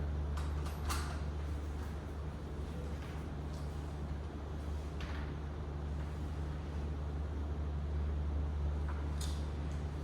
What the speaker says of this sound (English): I never thought that the air conditioner is so loud.